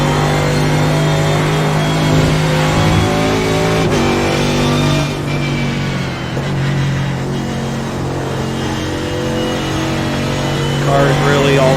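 Race car engine roaring steadily in iRacing at Canadian Tire Motorsports Park, loud and continuous with sustained harmonic drone and shifting pitch, a voice talking over it.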